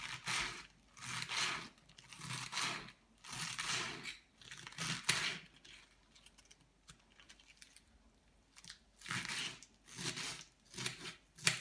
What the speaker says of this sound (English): to begin with, I'll be cutting my salad. I like to cut my salad very fine.